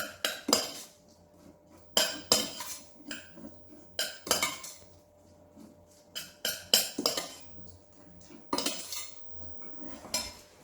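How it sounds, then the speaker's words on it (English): Fresh herbs being gently mixed into risotto in a pan, heard as intermittent clinks and scrapes of a utensil against the pan, in short clustered bursts with quiet gaps between, close by. "So now, simply chuck in the herbs, gently mix it around"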